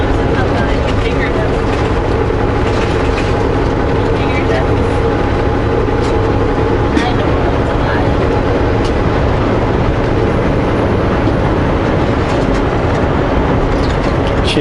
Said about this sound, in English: She can't handle any kind of rattling in the vehicle